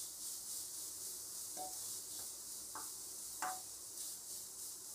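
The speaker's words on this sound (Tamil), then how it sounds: "இந்த முட்டைக்கோஸ் வாட போகிற வரைக்கும் கொஞ்சம் வதக்கலாம்" Cabbage is sautéed in a pan for wheat momo filling, with a faint, steady sizzling hiss. A few soft scraping stirs come through, and no one talks.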